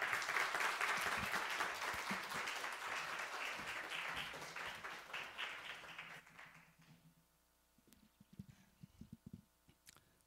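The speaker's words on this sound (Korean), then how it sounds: "우리 목사님 나오실 때 박수로 모시겠습니다." A church congregation at Sunday worship applauds as the pastor comes forward, a dense round of clapping that holds steady for about six seconds, then thins out and fades, leaving scattered claps and faint room noise.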